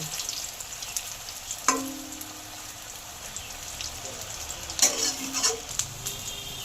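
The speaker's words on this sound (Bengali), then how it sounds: "এরকম লাল লাল করে সব কাবাবগুলো ভেজে নেব।" Soybean kebabs frying in hot oil give a steady, fairly quiet sizzle with a couple of sharper crackling bursts, accompanied by faint background sounds.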